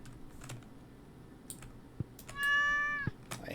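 A cat in the Stardew Valley video game gives a single clear meow when petted, surrounded by soft keyboard typing and mouse clicks.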